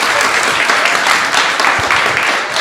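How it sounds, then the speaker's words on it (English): A gathered audience at a spiritual talk breaks into applause, a dense, loud, continuous clapping wash lasting a couple of seconds without letup. "give her a little applause for that."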